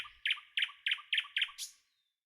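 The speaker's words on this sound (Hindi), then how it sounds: "सुबह सुबह और शाम के समय इनकी चहचहाहट मोहल्ले को एक खास जीवंतता देती है।" A sparrow gives five evenly spaced, sharp chirps close by, each quick and bright, followed by a slightly longer final call and then silence.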